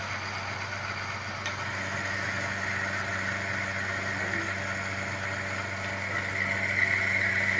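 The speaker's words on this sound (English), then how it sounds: "And then we allow the engine to run, to lubricate it." An engine runs steadily on a friction test rig, a continuous mid-pitched idle hum with a slight rise in level toward the end and no talk.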